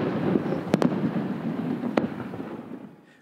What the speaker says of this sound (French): une partie des feux d'artifice ont été maintenus